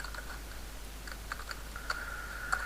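Quiet clicks of fingers typing on a computer keyboard, a short irregular burst of light keystrokes with a couple of sharper taps near the end, over faint steady room hum.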